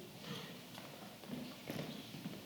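Horse hooves clip-clop softly at a walking pace in the distance, a few faint irregular steps against a low steady background hiss.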